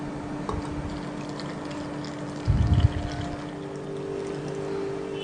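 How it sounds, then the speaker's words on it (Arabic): Milk is poured over Om Ali dessert in a home kitchen, a brief close liquid gush rising for about a second above a steady low background hum. "انزل بالحليب"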